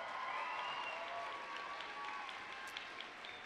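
Audience applause fills a 2013 college commencement ceremony, a steady wash of clapping from a large crowd that holds at an even level throughout.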